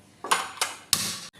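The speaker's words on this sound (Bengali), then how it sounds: "কড়াইটা বসিয়ে আমি গ্যাসটা অন করে দেব।" A metal kadai set down on a gas stove in a home kitchen gives three sharp clanks with ringing metallic decay, close and distinct, followed by a brief softer knock.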